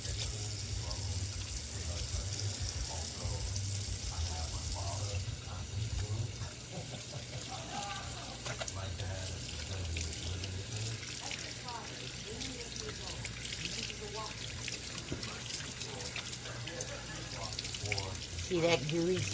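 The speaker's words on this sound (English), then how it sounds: "I wash my hands again." Running tap water splashes steadily into a sink while hands are washed with soap, a continuous close hiss and patter with a voice talking over it.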